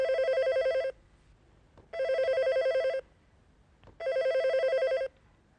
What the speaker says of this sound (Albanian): Po ngrijeni në telefon.